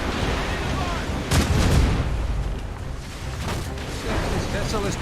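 Ship cannons booming in a naval battle in Assassin's Creed Rogue, with heavy blasts clustered around the middle amid constant rumbling combat noise and a shouting voice.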